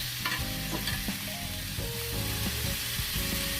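Ribeye steaks sizzle steadily on a Ninja Foodi XL grill after being flipped, a close, continuous frying hiss broken by a few clinks and scrapes of utensils, with no talking.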